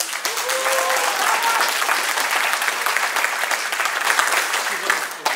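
An audience at the Cake Art Bulgaria Awards 2023 ceremony breaks into sustained, dense applause, many hands clapping steadily at close range for several seconds, with a brief voice near the start.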